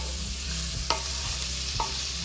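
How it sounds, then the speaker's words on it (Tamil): Chickpea sundal being stirred in a pan over medium heat: a steady soft sizzle with a couple of sharp spatula scrapes against the metal, close and clear, with no voices. "எல்லாமே ஒன்றா ஒட்டி வரும்போது நம்ம ஒரு 5 மினிட்ஸ் அப்படி போட்டுட்டு நல்லா கிண்டி விட்டுருங்க"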